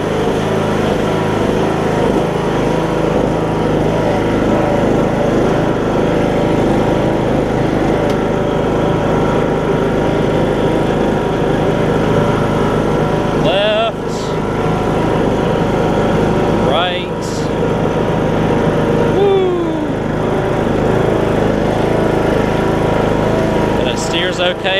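A riding lawn mower engine runs steadily at a loud, constant drone close by, with a few brief squeaks and clunks partway through.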